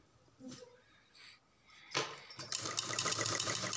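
Sewing machine stitching salwar fabric, starting up after a few soft handling sounds and settling into a steady, close, rapid mechanical whir that fills the rest of the moment.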